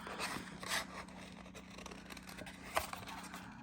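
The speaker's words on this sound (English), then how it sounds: "These scissors are not great." Several short snips and rustles of scissors working through paper, uneven and close, with a faint background hum.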